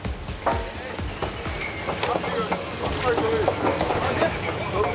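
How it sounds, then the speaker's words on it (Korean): Steady mechanical clatter and whirring of net-casting machinery on a drift-net fishing boat deck, with splashing water and scattered knocks, fairly loud and continuous, with faint voices in the background. "이 순간 갑판 위에서 들리는 건 투망을 위한 기계 소음뿐입니다"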